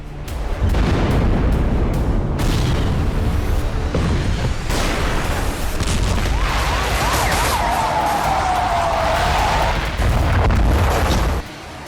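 Explosions from strikes on Hezbollah targets in news footage: a loud, dense barrage of booming blasts and rumbling, with a wavering siren-like whine rising near the end.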